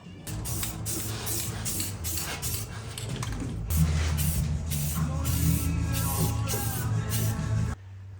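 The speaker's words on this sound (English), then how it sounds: "I'm just gonna douse it with some Rust-Oleum paint, and it'll look brand new." Rust-Oleum paint sprays onto a Toyota Tacoma truck frame in a series of close, hissing bursts, some short and some longer, with brief pauses between them and no talking.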